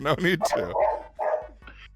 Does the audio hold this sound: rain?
no